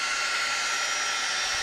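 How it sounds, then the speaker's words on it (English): A heat gun blows steadily to dry purple paint on a craft piece, a constant loud airy roar with no break and no talk. "You don't have to use a heat gun."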